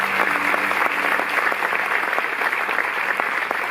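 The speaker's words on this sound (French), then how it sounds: "Merci de nous applaudir très fort." A crowd at a leadership program presentation in a Paris cabaret venue claps loudly and steadily in a continuous wash, with a faint low hum beneath.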